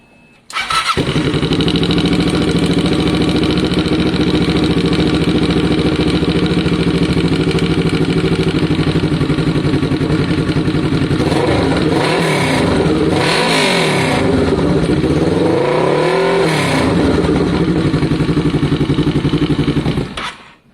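A Kawasaki ER-6n motorcycle engine fires up on its first start after repairs and idles steadily, then revs hard several times in quick bursts before settling back down, loud and close.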